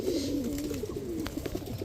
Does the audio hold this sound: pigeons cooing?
yes